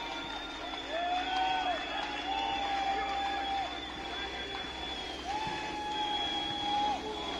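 A crowd of sports fans chants and cheers in long rising-and-falling waves, sustained and fairly loud, heard from a city park, with repeated tonal calls over the noise.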